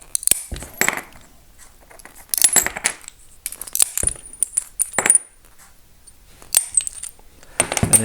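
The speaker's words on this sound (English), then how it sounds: "I'm just cutting them on an angle like that." Montolit crab nippers snap through ceramic tile pieces cut at an angle, producing sharp, close cracking clicks and small clinking shards in irregular bursts separated by quiet gaps.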